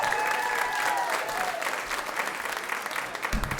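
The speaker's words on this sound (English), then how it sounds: "Clap your hands and let him hear" Comedy club audience clapping and cheering for a comedian, a dense burst of close applause with a few whoops early on, holding steady throughout and joined by a low thump near the end.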